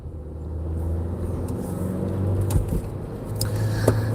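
A car driving on a Detroit freeway near I-94 and Gratiot, a steady engine and road rumble that builds slightly as it accelerates, with faint clicks and a low droning hum throughout.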